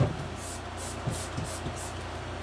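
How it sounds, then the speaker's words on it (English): Several quick hissing bursts of a Scrubbing Bubbles bathroom cleaner spray can in a quiet tiny-home bathroom, short pulses repeating roughly every half second. "So I am spraying all of those spots with just my scrubbing bubbles."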